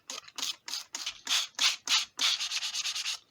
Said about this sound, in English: Now I'm going to wet sand with the 400 grit.